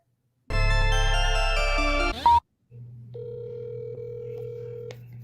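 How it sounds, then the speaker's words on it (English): Telephone tones from a call to a police department jail, a loud steady multi-tone burst cutting off abruptly, then a quieter sustained dial tone with a higher tone layered in, ending with a short click. "this is me making that phone call down there to the jail to confirm that she was actually in custody"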